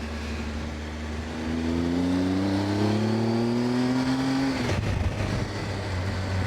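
A motorcycle climbing a Dolomites mountain pass, its engine note rising steadily through a gear, then a quick shift drop and a lower steady drone, close and loud with wind rush around it.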